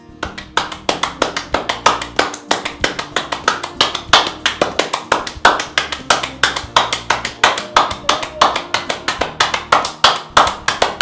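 Rapid, steady patting of hands on skin, dozens of soft slaps in a quick even rhythm, close and fairly loud with no talking.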